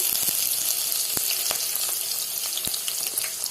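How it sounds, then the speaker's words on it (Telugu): Green chillies frying in hot oil in a home kitchen pan for a chicken curry, a steady bright sizzle with a few sharp crackles and pops, close and continuous with no talking. "ఇప్పుడు ఏమేసావు గీతు? ఏమేసావు? పచ్చిమిరపకాయలు"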